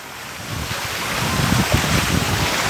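Wind gusting across an outdoor aqua park, a loud broad rushing roar with buffeting low rumbles as it strengthens, heard alone without talk.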